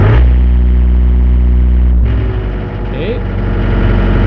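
A JoyT5 JT5600 six-ton excavator's diesel engine settles into a steady, loud idle right after starting, a low droning hum with a brief shift midway and no talk over it.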